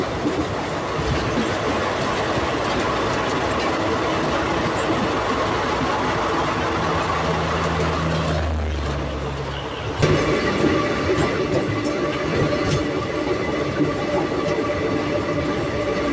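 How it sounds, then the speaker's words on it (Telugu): A Bharat Gaurav passenger train rolls past close by, a steady heavy rumble with rhythmic wheel clatter that carries on without a break, no voices. "భారత్ గౌరవ ట్రైన్"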